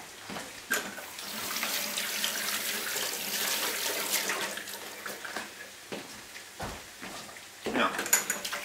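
Tap water runs steadily over a lemon rind being washed in a sink after the pulp has been cut away, a continuous rushing spray with a few brief clatters and louder splashes near the end.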